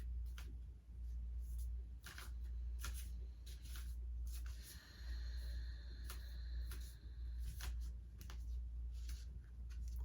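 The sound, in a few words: shuffling a deck of oracle cards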